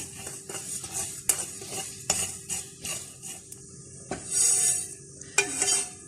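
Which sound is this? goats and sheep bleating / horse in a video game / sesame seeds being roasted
sesame seeds being roasted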